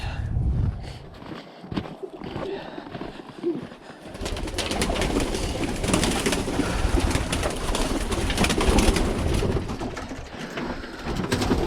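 Birmingham Roller pigeons coo and shuffle inside a winter loft, soft low calls at first, then a busy continuous wash of wingbeats, scratching and movement filling the space, fairly close.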